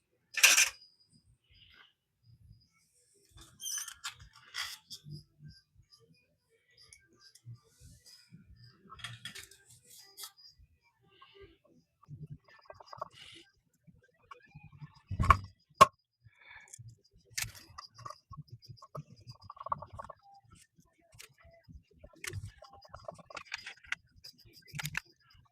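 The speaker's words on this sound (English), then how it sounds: "there are 5 screws that hold the plate to the body." Screws come out of the plate holding the neck to a relic-style guitar body, heard as scattered close ticks, small clicks and light metallic taps with quiet gaps between, one sharper knock partway through.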